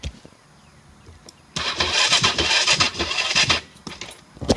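A 2007 Honda CRF450X dirt bike's electric starter cranks in a loud, close, rapid chugging burst for about two seconds, then stops without the engine catching.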